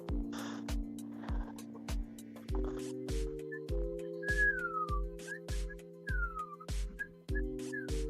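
A person whistles a few short rising and falling notes over a steady, rhythmic electronic beat with regular clicks, the whistling fairly faint and intermittent.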